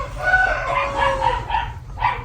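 Chickens in a coop make busy, overlapping clucking and squawking calls, steady and moderately close, with no one speaking.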